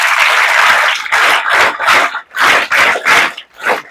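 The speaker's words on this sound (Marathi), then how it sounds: "एकदा जोरदार टाळ्या त्यांच्यासाठी वाजवा" An audience at a school speech event bursts into loud, sustained applause, with dense clapping that comes in several surging waves before tapering off.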